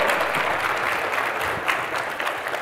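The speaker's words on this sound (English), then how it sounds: "let's give a round of applause for all of our mentors and mock members of Congress" A workshop audience at a climate advocacy training applauds steadily, a dense, even wash of many hands clapping at close range with no voices on top.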